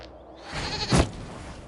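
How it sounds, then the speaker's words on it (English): A goat in a video game gives a single loud, close bleat rising out of ambient game background noise, with no voices. "we discovered this man attacking the building with a goat."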